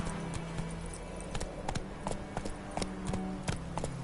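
Roach, a horse in The Witcher 3, gallops with a steady run of clip-clop hoofbeats, close and clear over a low rumbling game background; no one talks.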